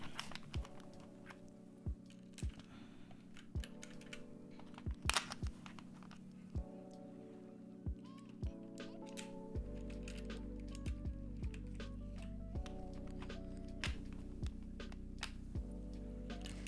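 Typing on an Asus hot-swap mechanical keyboard fitted with swapped keycaps, quiet close key clacks in an irregular rhythm with a low hum underneath.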